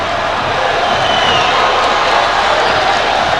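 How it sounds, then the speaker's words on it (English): Loud, dense arena crowd buzzing at a basketball slam dunk contest, a continuous roar of murmuring and scattered cheers from thousands of spectators, steady with no distinct peaks. "Crowd's already starting to buzz as we watch the replay of Charlie Villanueva"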